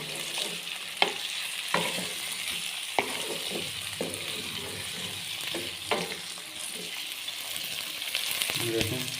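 Mixed vegetables fry in a pan with a steady, close sizzle, broken every second or so by sharp spatula scrapes and clinks as they are stirred; no one speaks.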